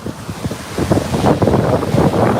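Ocean waves breaking at a New York City beach, rushing surf layered with heavy wind buffeting on the microphone, continuous and loud with no voices.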